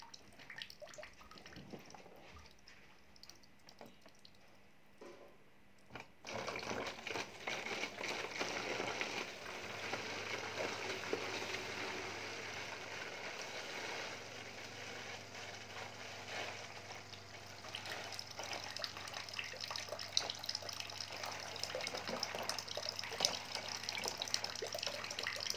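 Water flowing into a sump tank for a pump system, starting as a faint trickle and then turning abruptly into a steady, louder gushing pour that continues to the end.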